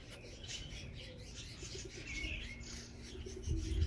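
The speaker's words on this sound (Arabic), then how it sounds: "عصافير بيتخانقوا مع بعضهم." Small birds chirping and calling over one another in a green nature reserve, a busy tangle of overlapping tweets with soft cooing underneath and a steady outdoor background.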